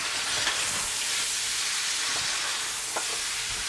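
Red meat being stirred in a cooking pot gives a continuous hissing sizzle with faint scraping and clinking from the stirring, close up and without speech.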